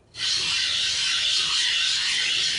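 Hand grinding gives a steady, continuous rasping hiss that stays close and even for the whole stretch, with no talking.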